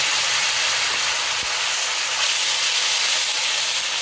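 Tomato and ginger hit a hot pan, raising a loud, continuous sizzling hiss that holds steady throughout.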